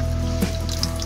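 Water trickling gently through a hydroponic deep flow technique pipe, a soft continuous liquid flow with faint drips, close and steady with no talk.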